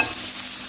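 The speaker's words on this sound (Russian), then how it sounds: "Все это на сухой сковороде обжаривается." Chicken breast and onion frying in a dry pan, a brief steady sizzle with stirring, close and fairly loud, no voices.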